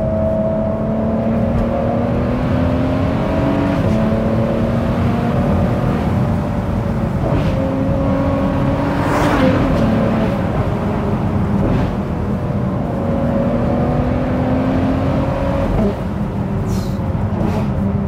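Ferrari 599 SA Aperta engine and exhaust droning steadily and loudly from inside the moving car, with faint pops and crackles breaking through now and then.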